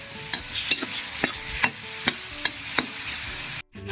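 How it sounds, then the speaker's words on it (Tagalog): Oil, garlic, ginger and onion frying in a hot pan for chicken sinampalukan, with a steady sizzle broken by regular sharp clicks of a utensil stirring against the pan, ending in a brief silent gap. "mainit na yung kawali. Lagay tayo ng mantika, bawang, luya, saka sibuyas."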